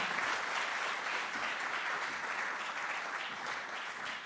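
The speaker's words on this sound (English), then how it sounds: "Please give him a round of applause as he rises to the stage." An audience at Afreximbank's ceremony marking South Africa's membership bursts into sustained applause as a speaker takes the stage, a dense, even roar of clapping from many hands that holds steady and fades slightly at the end.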